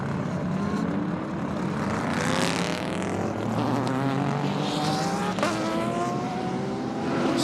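GT race cars roaring past at VIR during a Michelin Challenge race, loud continuous engine wail with rising and falling pitch as several cars sweep by close.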